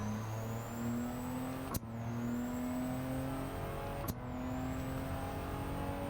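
A Honda S660 races at Autopolis in Gran Turismo 7, its engine droning steadily as it climbs in pitch, with two sharp upshifts cutting the note before it rises again, close and continuous with no talk.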